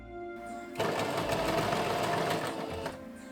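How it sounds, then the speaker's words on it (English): A sewing machine runs steadily for about two seconds, stitching the edges of sheer see-through fabric into French seams for a costume, with a close, even mechanical whir that starts and stops cleanly. "I cut the excess seam allowance and sew the edges again"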